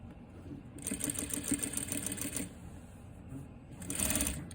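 A sewing machine runs steadily as it stitches bias binding onto a neckline, a close, moderately quiet whirring run that pauses briefly and then starts up again.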